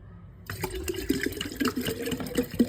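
Water pours steadily into a bottle from close by, its gurgling tone rising slightly as the bottle fills, with no talking.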